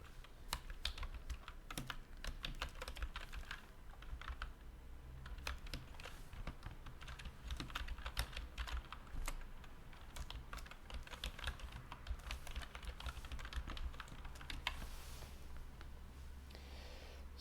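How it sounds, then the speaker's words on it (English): Steady clicking of a computer keyboard as a username is typed into a Roboform login field, a continuous run of close, fairly quiet keystrokes with no talking. "We will type in username, so we will make up one."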